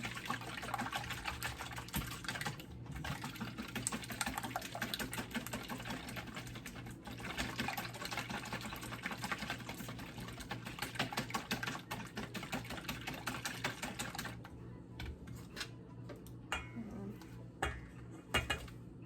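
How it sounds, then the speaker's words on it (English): An egg whisked in a bowl for pumpkin pie, a fast continuous clatter of the whisk against the bowl lasting most of the stretch, then a few scattered knocks as it stops, with no talk. "first I'm gonna go ahead and whisk together my egg"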